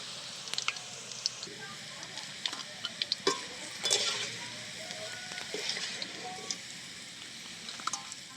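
Bitter gourd and other vegetables sizzle in hot oil in a pan, a continuous crackling fry punctuated by sharp scrapes and clicks of stirring, close and fairly loud.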